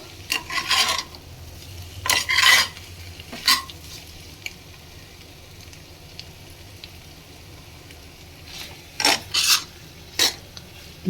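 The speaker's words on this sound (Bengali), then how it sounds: "দইটা দিয়ে সঙ্গে সঙ্গে কিন্তু মিশিয়ে দিতে হবে রান্নার সঙ্গে" A spoon stirs yogurt into a pointed gourd (potol) curry in a pan over very low heat, making short bursts of scraping and rasping strokes separated by quiet pauses, close by and with no speech.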